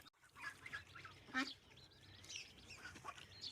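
Ducks and geese feeding on chopped pumpkin and zucchini in a Ukrainian village yard, with soft quacks and honks overlapping throughout and a faint voice in the background.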